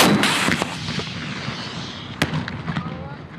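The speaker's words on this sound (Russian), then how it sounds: "Кроме обращения с ручным противотанковым гранатометом, тренируют стрельбу из автомата Калашникова и пистолета" Sharp gunshots crack out during a military shooting exercise for officers in Chernihiv region, with Kalashnikov rifles and pistols, sounding as a few distant reports with rolling echo over open-air background noise while a voice talks.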